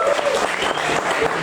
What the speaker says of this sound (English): Round of applause to you here.